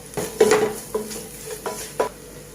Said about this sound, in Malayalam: നന്നായിട്ടൊന്ന് ഇളക്കി യോജിപ്പിക്കാം.